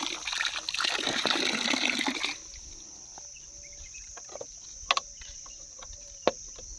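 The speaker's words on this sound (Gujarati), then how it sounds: "આ નળ દ્વારા પાણી કુંડીમાં જાય ધીમે ધીમે અને સતત ભરી રહે" Water trickles slowly and continuously from a tap into a small basin, faint and steady. A louder gushing burst comes first, then a quiet stretch with insect chirps and a few sharp clicks.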